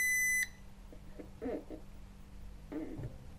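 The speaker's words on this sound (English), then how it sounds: "I don't know what that beep means." A robot vacuum cleaner gives one short, loud electronic beep at the start, followed by quiet room noise with faint thumps and rustles.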